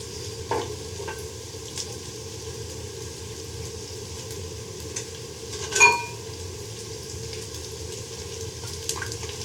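Potato and semolina fingers stuffed with liquid cheese fry in oil over medium heat, a steady close sizzle with a brief louder crackle partway through and no talk.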